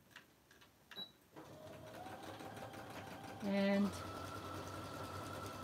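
A sewing machine stitches the corners of a simple messenger bag, a steady close mechanical whir running for several seconds after a moment of quiet, with a brief louder surge midway and a few faint spoken words.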